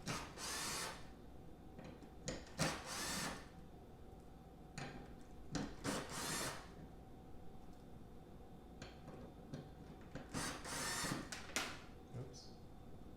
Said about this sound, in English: I'm just going to use a battery powered ratchet.